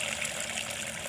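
Irrigation water gushes from a drum into a rice paddy, a steady close rushing and splashing with no voices.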